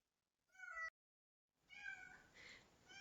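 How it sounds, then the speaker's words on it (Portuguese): A house cat meows twice, a short clear call followed after a pause by a longer drawn-out meow, fairly faint in a quiet room. "agora é o gato miando"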